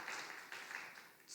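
Church congregation applause fills the room as a dense, steady patter of many hands clapping together, heard at a moderate distance and fairly faint, continuing evenly throughout with no speech over it.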